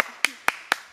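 Three sharp hand claps marking a film take on a blooper-reel set, evenly spaced about a quarter second apart, close and crisp with short room decay and no talk over them.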